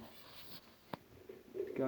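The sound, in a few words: new pet birds cooing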